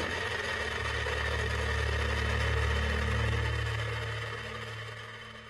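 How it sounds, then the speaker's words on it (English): Falcon 9 rocket lifting off from Launch Pad 40 at Kennedy Space Center, a deep, steady rumbling roar that swells in the middle and slowly fades toward the end, with no talking. "Liftoff of the Falcon 9."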